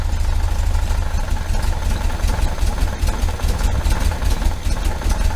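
A 1973 Volkswagen Super Beetle engine with Dellorto FRD 34 carburetors idles close by with a steady, rough, low rumble and a slightly uneven pulsing throughout.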